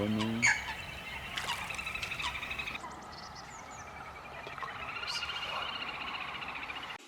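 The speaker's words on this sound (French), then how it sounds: "On entend tous les chants des canards et tout." Faint duck calls carry over a hushed marsh background, a few quacking, honking notes at the start and scattered calls later, distant and soft.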